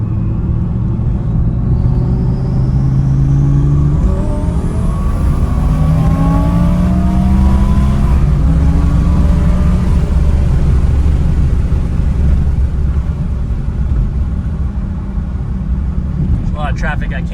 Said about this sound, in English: that was a good boost pull right there